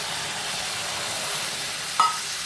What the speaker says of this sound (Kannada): ಅದರದ್ದು ಡಬ್ಬಿನಷ್ಟು ನೀರನ್ನು ಹಾಕೊಳ್ಳೋಣ